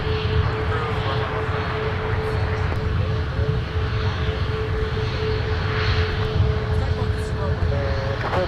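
A Gulfstream business jet at Minneapolis–St. Paul airport produces a steady, loud engine roar that holds evenly throughout, with voices talking over it.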